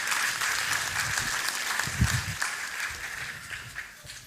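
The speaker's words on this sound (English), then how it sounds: "Round of applause" An audience applauds during a live devotional event at Bhaktivedanta Manor, with a dense, steady patter of many hands clapping at moderate distance, sustained throughout with no voices.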